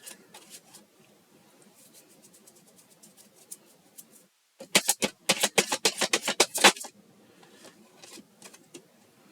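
Tarot cards being shuffled by hand, soft riffling at first, then a louder burst of rapid crisp flicks and snaps before settling back to quiet shuffling.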